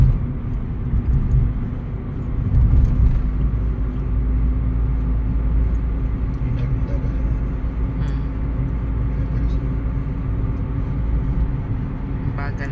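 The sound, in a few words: car driving along a road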